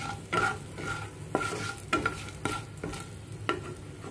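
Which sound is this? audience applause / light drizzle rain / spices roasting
spices roasting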